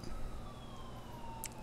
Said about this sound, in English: police car.